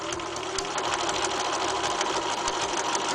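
A sewing machine runs steadily at close range, basting fabric with a long stitch length and shallow seam allowance, a continuous mechanical whir and chatter with no pauses or voices.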